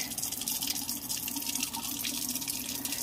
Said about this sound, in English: I wash my rice twice